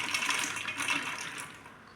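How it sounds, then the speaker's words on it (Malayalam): Water is poured into a cooking pot holding chopped vegetables, chickpeas and lentils for Thiruvathira puzhukku, a short, soft splashing stream that tapers off. "ആവശ്യത്തിന് വെള്ളം ഒഴിക്കുക."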